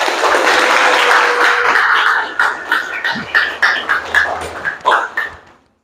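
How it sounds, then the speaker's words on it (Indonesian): Students in an Indonesian classroom give a round of applause, starting as a dense burst of clapping that thins into a series of separate, uneven claps before stopping. "Kita beri aplaus dulu."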